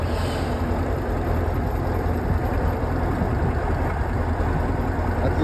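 A tractor that ploughs, lifts and hauls sits with its engine running, giving a steady loud low rumbling drone close by that stays unchanged throughout, with no talk.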